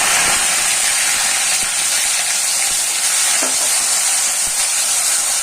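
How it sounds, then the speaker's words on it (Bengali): A ground ginger, garlic and onion spice paste hits hot oil in a pan for a fish curry, giving a loud, steady broadband sizzle with a few clinks of a utensil, and no talking. "এখন আমি যে বাটিতে আদা রসুন পেঁয়াজ মশলাটা বেটে রেখেছিলাম সেটা দিয়ে দিচ্ছি"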